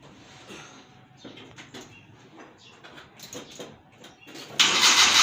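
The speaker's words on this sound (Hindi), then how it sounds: "पहले सल्फ में गाड़ी स्टार्ट हो गई है" A Suzuki Alto Mehran car engine cranks and catches on the first try, with a few uneven mid-range clatters building up before it fires into a loud, steady running roar close by, and no voices.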